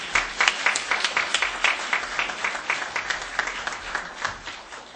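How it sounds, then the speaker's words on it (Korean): A church congregation at a Baptist fellowship gathering claps in welcome, a full sustained round of applause with dense, rhythmic hand claps, close and loud, steady for the whole stretch without speech. "나오실 때 큰 박수로 환영해 주시기 바랍니다."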